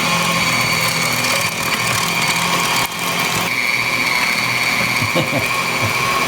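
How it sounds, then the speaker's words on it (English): An electric meat grinder grinding beef for meatballs gives a loud, continuous motor whir with a steady mechanical drone throughout, close by and unbroken. "the trick to cleaning out your grinder is to take a couple of pieces of bread and dump it in there"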